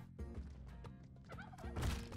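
Turkey gobbling from the Spelunky 2 video game, a burst of rapid warbling gobbles repeating over about two seconds, loud and up front amid game sounds, growing stronger toward the end.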